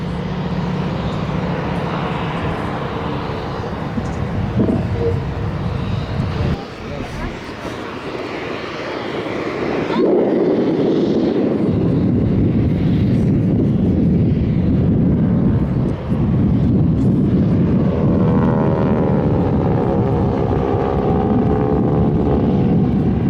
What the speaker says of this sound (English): That is close, very close formation flying.